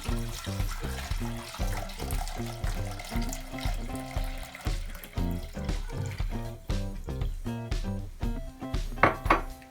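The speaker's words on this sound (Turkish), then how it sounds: "Sütümüzü boşaltıyoruz." Milk is poured into a pot of sugar for Turkish milk jam, a steady close liquid stream with rhythmic glugging pulses and light clinks of the container.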